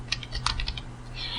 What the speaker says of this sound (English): So we'll go back to typing it correctly.